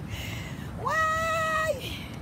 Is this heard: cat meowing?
yes